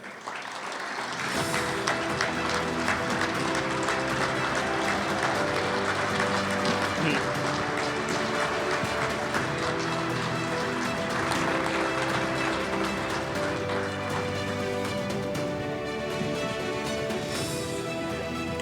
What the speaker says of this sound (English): Ladies and gentlemen, with your applause, please welcome into the St. Louis Sports Hall of Fame, Lindsay Eversmeyer.